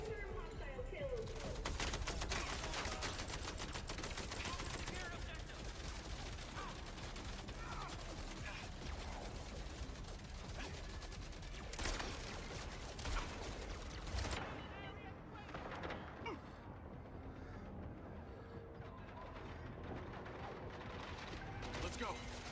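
Dense, sustained gunfire from the video game Mindseye, rapid overlapping shots and bursts with heavy booms throughout, loud and continuous, thinning slightly toward the end, with voices calling out over the shooting.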